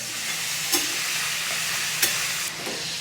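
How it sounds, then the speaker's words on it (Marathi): Chicken pieces fry hard in a pan over high heat, a steady broadband sizzle with two sharp spatula scrapes and clinks against the metal, close and continuous with no talk. "3 ते 4 मिनटं याला आपल्याला फ्राय करून घ्यायचं बरं का, मोठ्या आचेवर."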